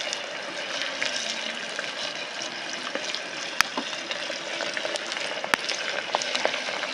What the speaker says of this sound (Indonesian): Wah, kita goreng sambal.